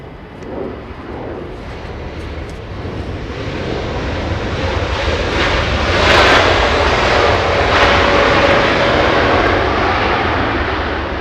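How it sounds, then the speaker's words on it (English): A Boeing 777 airliner arriving at Los Angeles International Airport, its broad engine roar building steadily and loud over about eleven seconds with some wind rumble, no voices present. "Let's get to the 777 arriving in just a few moments"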